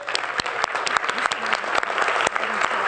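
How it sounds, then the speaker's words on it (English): A room of people at a city council meeting applauding Jonathan Reichenthal, with steady dense clapping throughout and a few individual sharp claps standing out near the front. "And let's applaud Jonathan."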